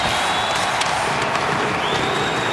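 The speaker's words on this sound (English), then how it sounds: "the fans are loving it. Clapping and cheering as that line leaves the ice" Ice hockey arena crowd during a Sharks versus Devils game, a steady roar of clapping and cheering as a line leaves the ice, loud and continuous.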